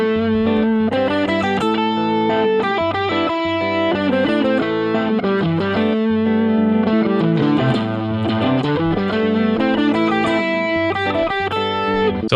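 An electric guitar with overdrive plays a continuous solo through pentatonic scale pattern 1, fast runs of notes at steady volume, close and loud with no talking.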